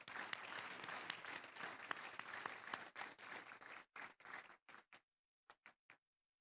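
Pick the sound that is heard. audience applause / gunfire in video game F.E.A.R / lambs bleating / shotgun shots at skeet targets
audience applause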